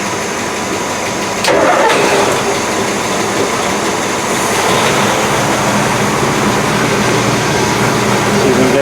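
Engine of a 1968 Chris-Craft Commander boat cranking briefly, then catching and settling into a loud, steady, rumbling idle that continues to the end.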